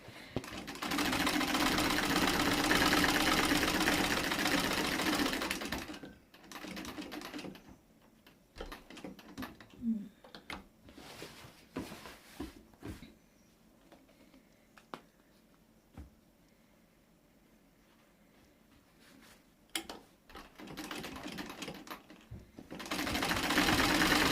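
A domestic sewing machine stitches a small fabric pocket onto the chest of an apron made from curtain scraps, running in steady buzzing bursts at the start and end with short stop-start stitching and handling noises between.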